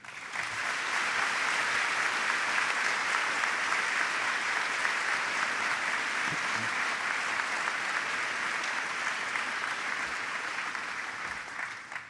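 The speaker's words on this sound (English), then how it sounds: "Ladies and gentlemen, would you all please join me and applaud their hard work" Sustained audience applause fills a Loughborough University graduation ceremony hall, a dense steady wash of many hands clapping for about twelve seconds before tapering slightly at the end.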